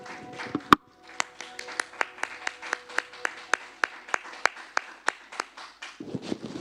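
Audience in a church gives a round of applause for the musicians. It comes across as a thin, sparse patter of claps, one sharp clap at the start and then a steady series of separate hits, with no voices.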